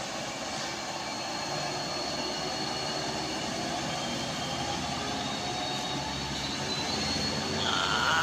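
A bus engine labours steadily up the steep Kedabuhan climb toward Sinabang, a continuous loud drone with broadband rumble that swells slightly near the end.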